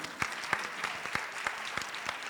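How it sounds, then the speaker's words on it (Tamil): Scattered applause from an audience at a Tamil school's 25th anniversary celebration, a few sparse, distinct claps spread unevenly over a couple of seconds rather than a full ovation. "பண்ணுவேன்னு சொல்கிறவங்களாம் ஒரு கைத்தட்டல் கொடுக்கலாம்."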